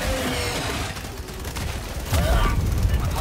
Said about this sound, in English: that turret just absolutely shredded me